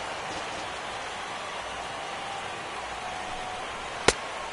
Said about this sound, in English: Well, it's really raining hard here tonight.